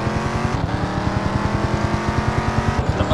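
Engine of a car driven in a video game, a steady loud drone with rapid regular pulsing, continuous throughout without talk.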